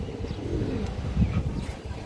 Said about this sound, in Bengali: কোনো জাতের বাঘা কবুতর দর্শক